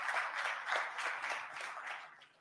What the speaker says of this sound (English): A round of applause for Giuliani.